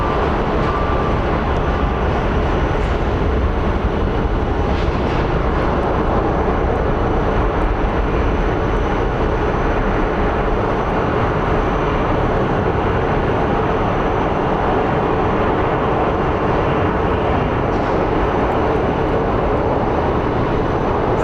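An American Airlines jet comes in to land at Phoenix Sky Harbor airport, a broad, steady roar of engine and wind noise that stays loud and constant throughout, with no talking.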